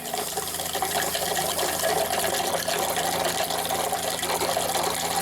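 Hot water runs steadily from a sink tap, a continuous broadband rush of flowing water at close range with no talking over it.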